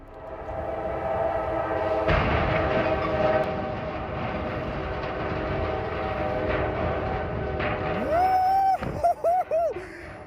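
A train rushes past with a steady roaring rumble and rattling wheels, then a loud horn blasts several times near the end.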